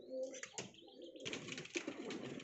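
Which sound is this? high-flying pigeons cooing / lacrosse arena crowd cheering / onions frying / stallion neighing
high-flying pigeons cooing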